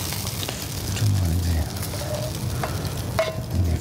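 Button mushrooms (Champignons) sizzle in a frying pan next to wild boar medallions, a constant frying crackle with scraping and stirring clatter, a few clicks, and a low rumble underneath.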